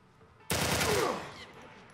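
Gunfire from The Last of Us Part 1, a loud sudden burst of rapid shots that fills the clip and then trails off into a fading echo, with no talk over it.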